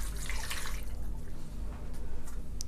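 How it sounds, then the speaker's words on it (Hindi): A cup of water poured into a karahi of raw chicken, a short splashing, trickling pour that is strongest at first and then settles into faint drips and a low background rumble. "1 कप पानी शामिल करेंगे।"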